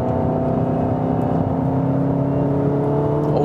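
A 2-liter four-cylinder engine in a 300 hp all-wheel-drive Seat Leon Cupra with a DSG gearbox drones loudly and steadily from inside the car, a sustained hum with no talk.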